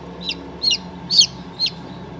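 A chicken gives four short, high, evenly spaced clucks over a low steady background hum.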